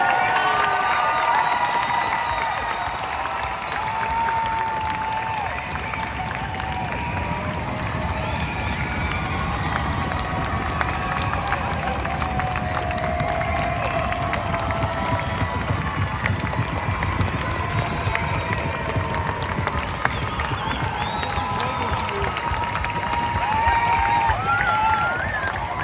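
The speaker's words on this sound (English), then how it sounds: "Let's give these students another round of applause." Audience applause and cheering fill a hall at a nursing school pinning ceremony, a steady dense crowd roar with scattered shouts continuing throughout.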